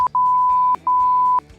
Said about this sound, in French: c'était le bip de censure